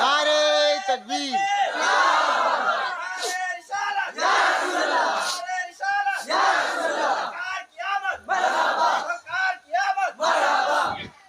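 A large religious gathering's crowd shouts the takbir slogan in loud repeated call-and-response bursts. Many voices rise and fall in rhythmic waves with short gaps between them.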